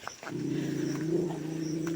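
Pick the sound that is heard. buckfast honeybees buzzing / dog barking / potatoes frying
dog barking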